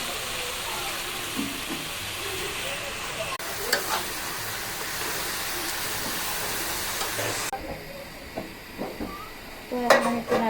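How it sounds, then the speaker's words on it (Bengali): Water spinach greens hit a pan of spiced masala and fry with a loud, steady sizzle and hiss, then quieten as the greens are stirred with a few clinks of utensil against the pan. "আমার মশলা কষানো শেষ। এখানে প্রথমে কলমি শাকগুলো দিব।"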